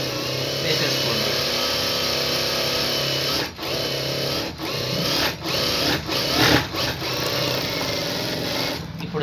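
A sewing machine stitches blouse lining cloth with a loud, steady mechanical whir that pauses briefly several times, with a voice speaking over the motor.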